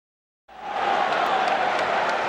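Sellout crowd at Chicago Stadium during a 1993 NBA Finals game between the Bulls and Suns, a loud sustained roar of cheering and murmur that swells in after a brief silence.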